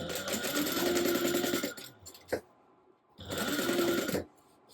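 A sewing machine bastes a seam on a crossbody bag, whirring steadily and close in two runs of a couple of seconds each, separated by a quiet pause with a single soft click.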